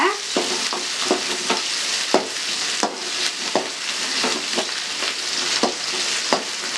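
Onion and dried red chillies sizzle in hot oil while a spoon stirs and scrapes the pan in irregular strikes, a close, steady frying hiss under the knocks.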